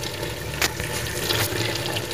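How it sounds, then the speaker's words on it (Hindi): Water pours steadily into a pot of chicken and potato curry with a continuous splashing rush, close and fairly loud, with a couple of brief clunks. "अब मैं इसमें पानी ऐड करूँगी, मैं अपने हसबे मुताबिक इसमें पानी डालूंगी।"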